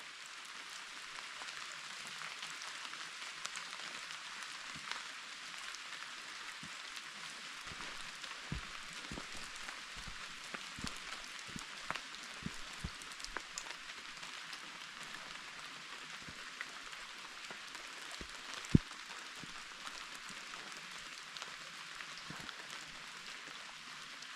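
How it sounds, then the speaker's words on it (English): Steady rain falls on a steep mountain trek, a dense even hiss with scattered sharper drips and taps close by, continuing alone without any talking. "let you listen the sound of rain here"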